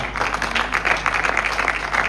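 An audience claps steadily for Pastor Nusa Mujambere at an evangelical gospel concert, a dense, sustained round of applause close by with no talk over it.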